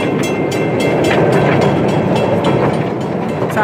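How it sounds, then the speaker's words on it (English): Onboard the small ride-on train at Old Town Poway, a loud, close, continuous rumble of wheels on track with faint rhythmic clicks running throughout, no talking. "they have this really awesome train that you get to ride"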